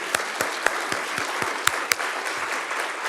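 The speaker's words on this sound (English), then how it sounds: "I want to give you a round of applause." Scattered, sparse hand claps from a small group at a military change-of-command ceremony, a handful of distinct sharp claps spread unevenly over a few seconds against a quiet room.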